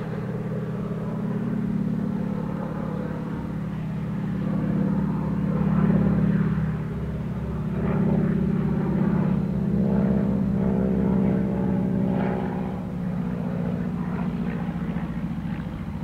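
A North American AT-6 Texan's radial engine rumbles steadily on landing, a loud low drone that swells and eases slightly over time, heard from inside the aircraft with no voices.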